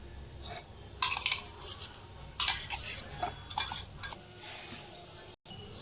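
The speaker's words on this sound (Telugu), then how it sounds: "ఇప్పుడు ఒక గిన్నె తీసుకొని మిక్సీ పట్టిన చికెన్ కీమాని అయితే ఇందులో వేసుకుందాం" Minced chicken keema goes into a bowl, with several bursts of metal spoon scraping and clinking against the dish between quieter pauses, close and fairly clear.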